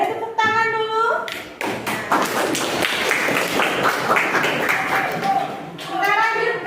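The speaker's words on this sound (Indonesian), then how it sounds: "Beri tepuk tangan dulu." Students in a classroom clap their hands in a burst of uneven, close claps, with voices audible at the start and end.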